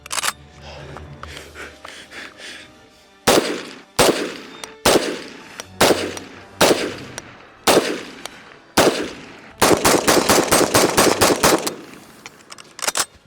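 M1 carbine fired outdoors: a few sharp, widely spaced shots ring out, then a rapid string of loud cracks follows close together before the firing stops.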